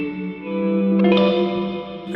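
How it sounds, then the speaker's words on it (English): Digital reverb and delay from an Ibanez SDR-1000+ rack unit (Sony MU-R201) wash over sustained, slightly gritty tones, with a brighter swell about halfway through that lingers in a smooth, spacious tail. "Maybe that's going into some sort of reverb delay combos."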